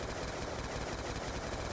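Dense, continuous automatic gunfire in the Nuketown Zombies video game, a muffled steady rattle at moderate level with no talking.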